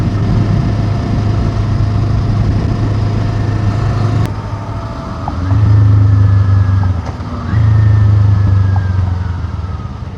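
Steady Kawasaki Ninja 500 engine drone through the stock exhaust from a moving ride, with the pitch dropping and then rising again as gears change, loud and continuous with no talking.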